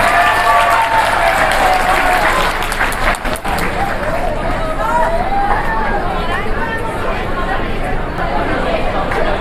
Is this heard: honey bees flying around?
no